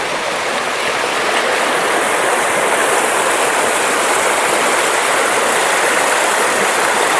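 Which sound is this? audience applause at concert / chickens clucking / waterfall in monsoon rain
waterfall in monsoon rain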